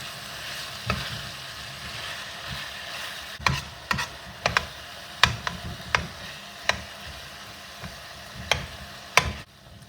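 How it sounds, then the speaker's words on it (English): Ground beef and veal browning in a pan while being broken up, a steady sizzle under sharp intermittent scrapes and taps of a utensil against the pan, close and without talk. "This is 1 pound of beef and veal. I'm just going to break that up. I'm going to brown that all together."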